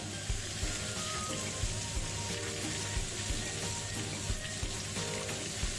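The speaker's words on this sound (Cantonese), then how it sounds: "中火，好有心機咁去煎下佢。" Chicken for teriyaki pan-frying in oil over medium heat, a continuous close sizzle with small pops scattered through it, steady and even from start to finish.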